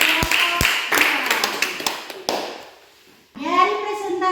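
Classroom applause for a student group after its presentation: a handful of sharp, close claps at first, thinning into scattered clapping that fades to near silence, then a voice comes in.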